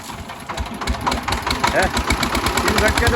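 A diesel tiller engine starts up in a paddy field and settles into a rapid, knocking idle that grows louder and steadier. People talk over the engine.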